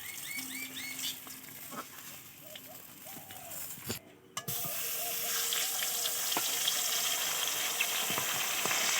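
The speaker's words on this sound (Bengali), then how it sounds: "এবারে বাকি মাছটা ভেজে নেবো" Remaining pieces of pangas fish, including two heads, go into hot oil: a fainter sizzle with scattered clinks gives way after a short break to a louder, dense, steady frying hiss.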